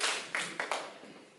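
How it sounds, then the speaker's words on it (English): Brief scattered handclaps from a small classroom group, a few distinct claps fading out quickly with no talk over them. "Okay, give applause to Nadia."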